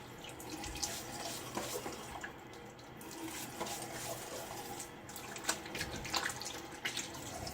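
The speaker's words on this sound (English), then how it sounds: "Add water to my face." Tap water runs steadily into a sink during a wet shave, a continuous splashing flow with small drips and clinks, fairly quiet, with no talking.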